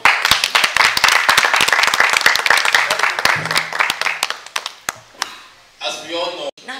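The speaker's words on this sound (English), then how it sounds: "Another round of applause for her." Audience clapping at a theater event in a rapid, loud patter that thins into scattered claps, followed by a person speaking near the end.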